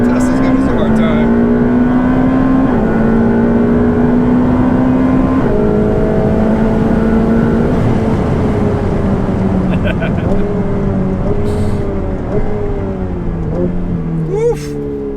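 A 710 hp Ferrari accelerates hard from a launch-control start, its engine droning loud and rising in pitch through several gear changes, heard from inside the cabin while people talk over it.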